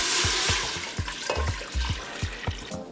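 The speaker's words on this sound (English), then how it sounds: "So next you're going to catch some water and you're going to put it in your pot" Tap water runs into a cooking pot during the preparation of Jamaican rice and peas, a steady close splashing hiss with repeated low thumps and gurgles as the stream hits the pot, no voices.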